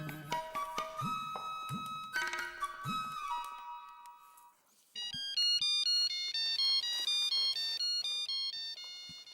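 A telephone ringtone plays as a repeating electronic melody of bright beeping tones, one pattern for about five seconds and then a louder, different chiming phrase, with no talking.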